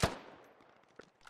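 Gunfire in the Squad military shooter game: one sharp, loud shot opens, then a few faint distant cracks follow in quick succession.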